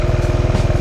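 A Buell Blast motorcycle engine runs with a steady, pulsing low throb, near and fairly loud, holding an even rhythm as if held at high revs without clear rises.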